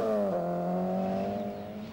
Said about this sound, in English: Malcolm Wilson with a six-speed gearbox in the Astra GTE